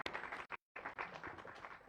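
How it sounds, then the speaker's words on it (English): Audience applause at an Institution of Engineers of Kenya branch presidential debate: steady, fairly close clapping from a crowd, dense and continuous except for a brief cut to silence partway through. "Let's give him a round of applause."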